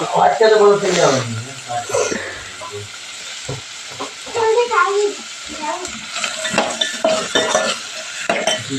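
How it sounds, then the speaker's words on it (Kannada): Tomatoes frying in a pan and being stirred, with a soft sizzle and scraping under a person talking, with scattered clinks of the spoon. "ಸ್ವಲ್ಪ ರೀ ಟಮಾಟೆ ಹಾಕತ್ತೀನಿ ಚಲೋ ಫ್ರೈ ಅಲ್ರಿ"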